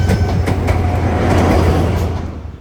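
A GWR Intercity 125 HST express train runs along the rails on a branch line, a steady loud rumble with deep low drone and faint rhythmic clicks from the wheels, fading slightly at the end.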